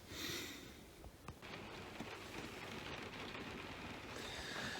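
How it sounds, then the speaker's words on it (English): Heavy rain pours down on a cold, windy morning in a constant dense hiss, loud and unbroken, with a few faint knocks and shifts in the wash of noise. "I'm just kind of waiting for this rain to die down"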